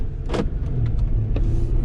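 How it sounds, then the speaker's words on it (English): Steady low tire road rumble from a 2018 Jeep Wrangler JL Rubicon driving at 20 mph, with a couple of brief faint rattles or clicks over the constant hum. "get a feel for the noise the JL Rubicon"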